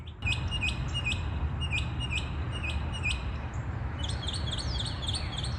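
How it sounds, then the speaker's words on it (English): Repeated high chirps from small birds over a steady wash of outdoor noise, with a second bird joining in toward the end. "Maybe you hear the birds chirping, some other animals chirping."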